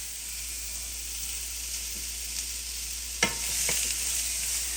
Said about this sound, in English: let's go ahead and add our sliced onions